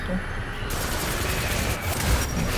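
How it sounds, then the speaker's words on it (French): Automatic rifle fire in a video game, loud rapid bursts crackling without pause over a dense, booming backdrop, close and intense. "Je repasse en mode fusil automatique."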